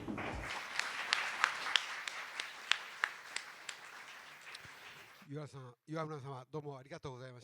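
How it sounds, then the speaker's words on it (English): Audience applause fills a hall for several seconds, scattered claps fading, then a voice begins speaking over the last of it. "Please send him another big round of applause"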